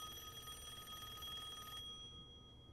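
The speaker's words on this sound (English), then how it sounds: "You hear the phone ringing? It rang like 3 times already." A telephone rings in a quiet room, a steady electronic ringing tone that repeats and then cuts off abruptly near the end, faint and alone without voices.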